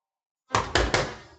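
Three firm knocks on a door in quick, even succession, close and loud against otherwise silent surroundings.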